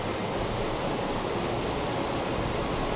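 A rain-swollen stream and waterfall in Zhuqi on a rainy day give an even, loud rushing roar of water that holds without a break from start to end.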